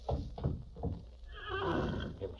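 A horse neighs loudly and close by in an old Western drama set near a canyon, a drawn-out whinny that follows a few short snorts and hoof sounds.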